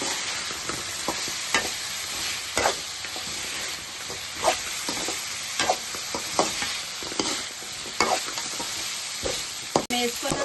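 Cauliflower pieces coated in masala and sauce stir-fry in a pan for gobi fried rice, with a steady close sizzle and repeated scraping, clattering strokes of a spatula against the pan.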